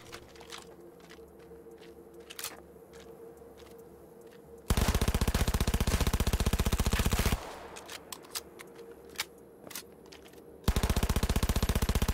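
Rapid automatic weapon fire in Cyberpunk 2077 comes in two loud sustained bursts of dense, evenly spaced shots, separated by quieter stretches of sparse clicks and single sharp reports.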